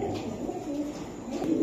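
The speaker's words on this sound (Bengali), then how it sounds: "এগুলো দেশি কালপেটি কবুতর।" Local desi Kalpeti pigeons at a pigeon sale coo softly and repeatedly, low rolling calls close by over a steady murmur of background noise.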